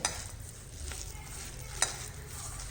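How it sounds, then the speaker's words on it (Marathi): Potato snack batter of grated raw potato and rice flour mixed by hand in a bowl, giving a steady soft squelching and rustling texture with a brief sharper knock near the end, close and fairly quiet. "तर आता इथं मी हातानेच मिक्स करून घेते आणि मीठ ते इथंच चेक करायचं"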